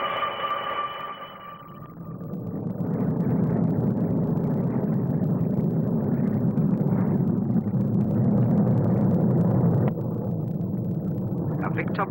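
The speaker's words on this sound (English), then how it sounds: "A distinctive sea vixen naval fighter, which leads in a stablemate, the Comet 4" Sea Vixen naval fighter leading a Comet 4 airliner past the crowd at the 1958 Farnborough SBAC flying display, a loud broad jet roar that swells and holds steady, with a brief tonal whine at the start.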